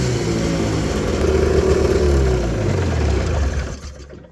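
An old snowmobile engine runs steadily after starting, a loud, continuous mid-pitched motor drone with slight revving that holds for about three and a half seconds, then cuts off.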